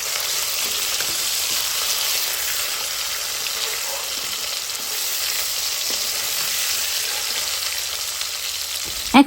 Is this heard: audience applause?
no